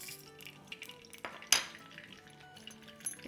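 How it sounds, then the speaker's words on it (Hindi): Whole red chillies, mustard seeds and cumin sauté in a pan: a spoon clinks and scrapes against the metal, with a soft sizzle underneath and one sharp clatter near the middle. "इसको थोड़ा सा सॉटे करेंगे।"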